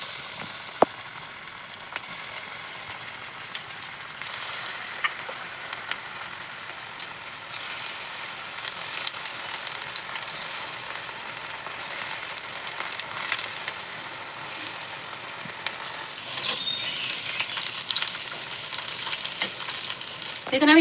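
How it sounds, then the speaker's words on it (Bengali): Jackfruit pakoras deep-frying in hot oil in a wok make a continuous close sizzle with occasional stirring scrapes, steady throughout with no voices. "কড়াইতে তেল গরম করে নিয়েছি, পকোড়াগুলো ভেজে নেব।"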